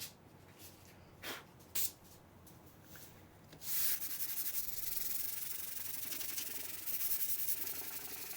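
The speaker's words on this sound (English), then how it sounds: "Here's a look at the sanding." Sandpaper rubs over filler primer on a subwoofer speaker cabinet, a few short scratches at first and then steady, close, continuous back-and-forth sanding.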